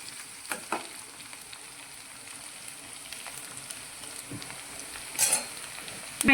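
Chopped onions for a green pea and potato curry sauté in a pan, giving a soft continuous sizzle with occasional clinks and scrapes of stirring and a brief louder hiss near the end.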